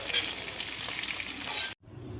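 Prawns fry in mustard oil with a loud, continuous close-up sizzle and crackle that cuts off abruptly near the end, followed by quieter room sound.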